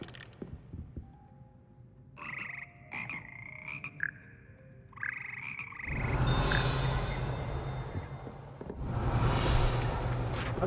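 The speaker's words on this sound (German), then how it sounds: "Hier sitzen die schleimigen und doch melodischen Frösche, die den Froschchor von Hogwarts bilden." Frogs of the Hogwarts frog choir in the video game Hogwarts Legacy croak in melodic, pitched notes, several voices overlapping, before a louder burst of ambient noise takes over.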